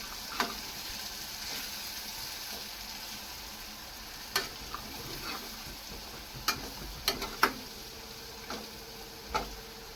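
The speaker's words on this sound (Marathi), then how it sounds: "हा सर्व मसाला छान तेलामध्ये परतून घ्यायचा आहे." Masala of red chilli powder, garam masala and Kashmiri chilli sautés in hot oil for lasooni methi, a soft steady sizzle broken by occasional scrapes and clicks of a spoon, with no voices.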